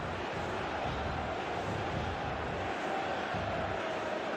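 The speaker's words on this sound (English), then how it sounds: "Crowd's chanting, loving what they see so far" A wrestling event crowd at a steady, dense roar, voices blending into a continuous, moderately loud wash with no distinct breaks or individual calls.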